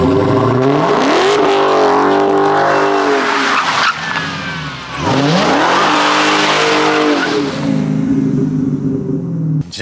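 A Dodge Hellcat SRT accelerates hard on an open road, its engine revving loud and close through rising gear pulls, with squealing tires and a brief lift between runs.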